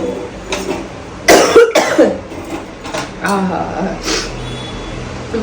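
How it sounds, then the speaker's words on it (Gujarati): A person coughs in a short harsh burst, followed by a few rough throat sounds and breathy noises up close. "ઉધરસ સીધી ચાલુ થઈ ગઈ છે"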